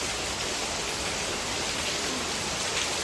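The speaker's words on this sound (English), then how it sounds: "have a look out here, have a look. It's just pouring, my friend." Heavy monsoon rain pours down steadily in Goa, a dense, loud, unbroken hiss of water with no pauses and no voices.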